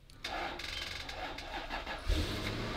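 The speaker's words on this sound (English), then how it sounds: "Can we start it up?" A V8 project car cranks and fires up, the starter churning steadily before the engine catches with a low thump near the end, loud and close.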